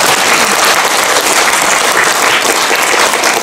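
An audience claps during a lecture in a district office auditorium in Busan, producing a loud, dense, continuous burst of applause that fills the whole stretch.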